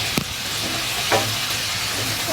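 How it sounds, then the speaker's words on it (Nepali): Spiced fish curry frying in a pan over raised heat, a loud continuous sizzle with a couple of brief scraping strokes as it is stirred. "अब म चलाउँछु यसलाई"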